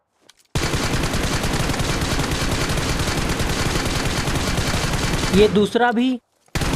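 Sustained automatic fire from an M416 with a 50-round extended magazine in BGMI, loud rapid shots running for about five seconds, broken by a brief reload click sequence before firing resumes, with someone briefly talking over it.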